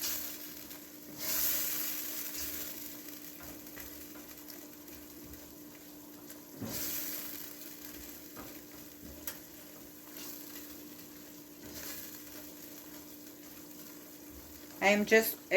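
Soy sauce stirred into chicken filling sizzling in a pan for chicken shepherd's pie, a steady low fry hiss with occasional scrapes and a louder clatter of the utensil near the end.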